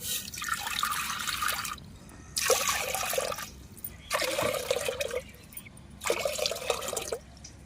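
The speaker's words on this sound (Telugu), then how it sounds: "పావుసేరు బియ్యానికి నాలుగు పావుసేరు నీళ్ళు పోసుకోవాలి" Water poured into a cooking pot of rice for Rayalaseema ragi sangati, in four separate splashing bursts with short pauses between them, close and fairly loud.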